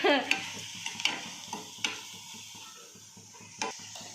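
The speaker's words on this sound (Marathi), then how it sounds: "तर बघा आता एक कांदा छान परतलेला आहे" Onion sautéing in a pan for a kurdai vegetable dish, a gentle steady sizzle punctuated by several sharp metallic scrapes and taps of a spatula, close by.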